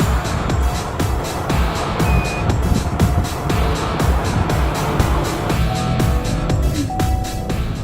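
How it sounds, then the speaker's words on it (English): Highway traffic, with a car passing on the road during a police ride-along, heard as a continuous close engine and tire roar with repeated rhythmic thumps, steady and fairly loud throughout. "It was a car right behind us, I think."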